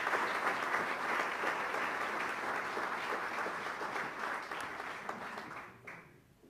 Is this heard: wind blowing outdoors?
no